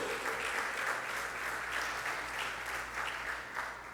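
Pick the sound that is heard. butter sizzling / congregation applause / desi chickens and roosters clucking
congregation applause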